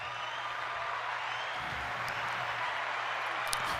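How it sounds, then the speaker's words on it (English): Audience applause at an evening talk in Detroit, a dense, steady wash of clapping that holds at an even level from start to finish with no voices rising above it. "I like that applause right there"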